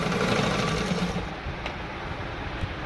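A sewing machine stitches salwar fabric close by, a fast, continuous mechanical whir that runs steadily throughout with no voices.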